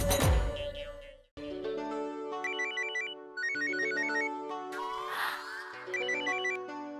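A telephone rings in a Hindi TV sitcom household scene: a loud electronic ringtone of repeating bright melodic chirps in steady bursts, running alone with no talk over it.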